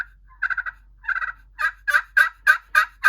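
A turkey pot call worked with a composite graphite striker gives a run of raspy yelps: two quick clusters, then a steady series of louder, evenly spaced yelps, close and alone.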